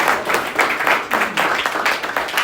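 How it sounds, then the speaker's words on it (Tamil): A church congregation claps hands enthusiastically in thanksgiving during a worship service, a dense continuous patter of many hands with rhythmic surges, fairly loud and close, with no speech over it. "நீங்களாம் நல்லா கைத்தட்டி உற்சாகமாக ஆண்டவருக்கு நன்றி சொல்லணும்"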